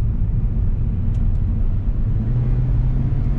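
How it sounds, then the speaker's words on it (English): A Honda Civic fitted with a coil spring spacer lift rolls along a road, a steady close low rumble of engine and tires from inside the car, with a couple of faint brief clicks. "I'm gonna try to go over some bumps"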